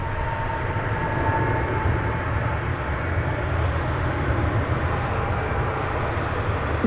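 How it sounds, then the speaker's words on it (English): A McDonnell Douglas MD-11 bound for Louisville departs DFW Airport at night, giving off a continuous low, rumbling jet roar that stays loud and even throughout. "It's our first MD-11 of the evening, going to"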